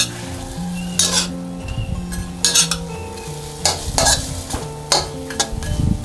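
Glass noodles and shrimp in sauce are stirred and turned in a hot pan, with scraping utensil strokes every second or so over a constant sizzle, while a tonal musical backing plays beneath.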